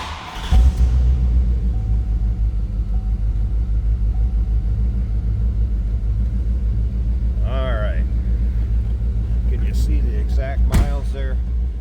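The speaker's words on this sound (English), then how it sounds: "This car's got a little bit of rumble to it." A 1994 Chevrolet Corvette convertible starts with a quick crank, then settles into a loud, steady, throbbing idle rumble close by, while a person talks over it near the end.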